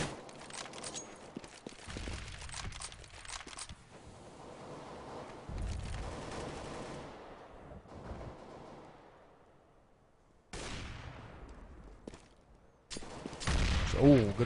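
A Counter-Strike match rattles with bursts of gunfire and a grenade blast, the shots and explosion coming in uneven clusters amid game noise, with a commentator's voice present at times.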